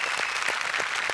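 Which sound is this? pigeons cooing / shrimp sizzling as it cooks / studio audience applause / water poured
studio audience applause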